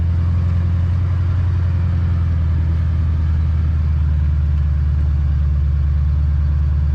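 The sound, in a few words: vehicle crawling along a snowy road in two-wheel drive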